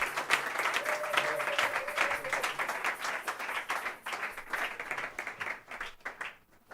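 A church congregation applauds together during a worship service, a dense, steady wash of clapping that stays loud for several seconds and then thins out toward the end, with a faint held tone under it early on.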